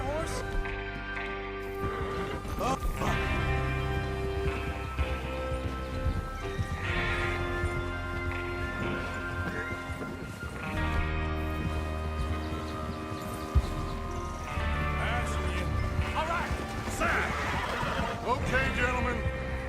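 A horse in Red Dead Redemption 2 whinnies and snorts while hooves clip-clop nearby, mixed with game music and background voices, with loud neighs standing out over the steady hoofbeats.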